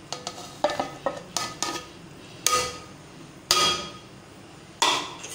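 Half-boiled rice spread across a chicken kacchi biryani pot with a spoon, giving a string of light taps followed by three louder scraping knocks against the pot, with no talk.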